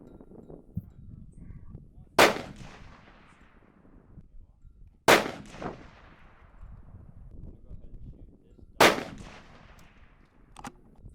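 An Aero Precision Solus rifle in 6.5 Creedmoor fires three sharp, loud shots spaced a few seconds apart, each cracking and then echoing away, with outdoor range noise between them.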